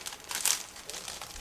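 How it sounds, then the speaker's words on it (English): Resealable plastic bag from an Eduard 1/144 MiG-21bis model kit being pulled open up close, a burst of crinkling and crackling with a sharper rip midway, followed by lighter rustling. "This is a resealable plastic bag, so just give me a second to open it."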